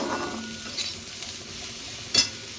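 Onions roast in a pan with a soft, steady sizzle, brief spoon scrapes and a sharp clink of utensil against metal near the end, all fairly close.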